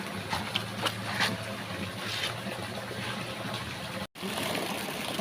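Sulfur hot spring water at Mambukal resort gushes and splashes steadily, a dense close wash of flowing water with one brief dropout.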